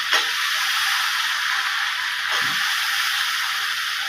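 Potatoes dropped into a pan of onions frying with turmeric and salt, giving a continuous bright sizzle with a small scrape early on and another around the middle, no talk.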